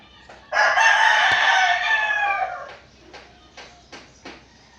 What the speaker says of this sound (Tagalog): yung mga kapitbahay ko po is maraming alagang mga manok